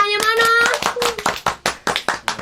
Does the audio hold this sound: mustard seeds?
no